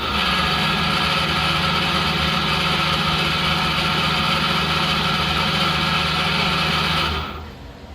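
A Miyano BND51C CNC lathe spindle runs in reverse at 500 RPM, giving a steady, loud mechanical hum with a high whine that holds for about seven seconds before winding down.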